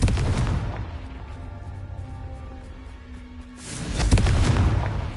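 Fiery spell explosions from Hogwarts Legacy: a loud, deep blast opens, a low rumbling lull follows, and a second heavy booming burst swells near the end.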